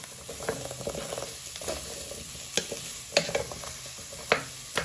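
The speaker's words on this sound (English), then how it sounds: "Next step, you want to add in your carrots. Give them a little stir." Carrots stirred into a pan of onions, garlic and potatoes for carrot and coriander soup, a soft steady sizzle with scraping spoon strokes and occasional sharper clinks against the pan.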